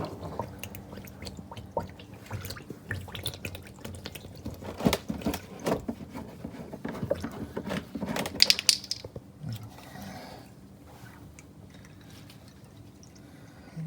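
Engine oil draining from a Toyota RAV4 Hybrid during an oil change, a faint, irregular pouring and dripping trickle with scattered small knocks, close by and without talk.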